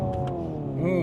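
A simulated engine drone from a 2025 Hyundai IONIQ 5 N electric car climbs and bounces against the rev limiter on manual paddles, a steady harmonic hum stuttering near the end, with a person's voice faintly underneath.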